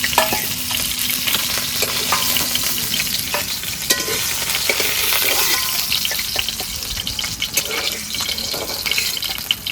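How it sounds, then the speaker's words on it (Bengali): Rui fish fries in hot mustard oil, a dense continuous sizzle with occasional stirring and clatter from the pan, close and steady throughout, with no talking. "এবার বাকি মাছগুলো ভেজে নেবো"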